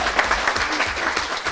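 Steady applause from a seminar audience at an international disaster-preparedness training camp in Comănești, a dense even patter of clapping filling the whole moment with no talk.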